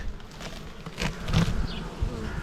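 Busy droning of honey bees close by in front of a weak hive entrance overgrown with grass, a steady buzz swelling and fading as individual insects pass near, with no voices.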